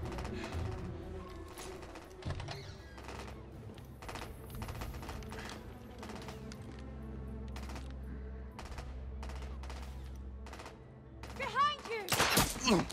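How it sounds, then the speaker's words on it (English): Gunfire in The Order: 1886, a close burst and then a long run of rapid sharp shots over a low droning game soundtrack, ending in a louder flurry. "I got shot like four or five times then."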